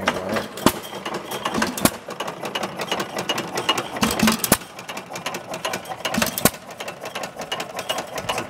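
A 2 hp Accadia stationary engine runs while driving a water pump, giving off a close, loud, steady rapid chugging with occasional sharp knocks and a few uneven beats.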